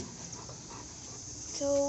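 A pet dog pants softly and quickly close by, and a person starts talking right at the end.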